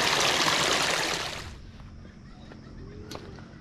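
Water from an irrigation canal on a rice farm rushes loudly with a broad, hissing flow, then drops to a softer trickle, with a faint bird call near the end.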